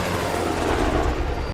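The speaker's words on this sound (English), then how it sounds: "That's the helicopter from Suicide Squad." A helicopter in a zombie action trailer set in Las Vegas drones steadily with a dense, loud rotor and engine roar that fills the whole moment without pause, with no talking over it.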